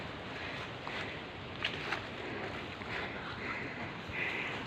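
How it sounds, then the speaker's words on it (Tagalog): Steady, rushing strong wind roars across the microphone, a dense broadband buffeting with occasional louder gusts throughout. "Sobrang ng hangin, ang lakas ng hangin."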